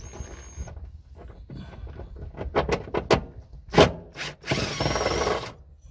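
Screwdriver loosening a 10 mm screw on interior trim of a Toyota Tacoma, close sharp clicks and scraping rasps building to a longer grinding rub near the end.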